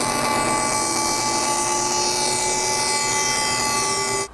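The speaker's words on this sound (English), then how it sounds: "But first I need to cut this down to size on the bandsaw." A bandsaw cuts a dyed poplar inlay strip, a loud steady whining buzz with a sustained tonal hum that runs for about four seconds, then stops abruptly as the cut finishes.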